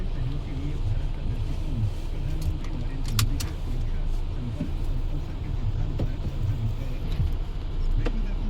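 Car keys jangle briefly with a couple of sharp metallic clicks inside a moving car, over a steady low cabin and road rumble.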